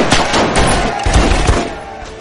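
Gunfire breaking out in a Hindi film action scene, a burst of loud overlapping shots and heavy thuds packed into a couple of seconds under a dense, busy soundtrack.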